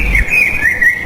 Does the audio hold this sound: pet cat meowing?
no